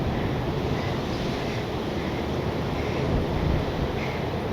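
Steady, roaring wind gusts buffet the microphone in the Black Hills of South Dakota, a constant broadband rush with no voices, swelling slightly near the end.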